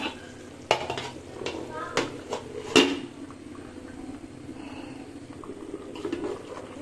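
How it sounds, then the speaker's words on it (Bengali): A spoon stirs food in a cooking pot with scattered scraping clinks and utensil knocks against the metal, a few louder bumps early on over a low kitchen background. "আবার নেড়ে দিতে আসলাম"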